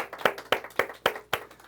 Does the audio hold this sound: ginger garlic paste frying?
no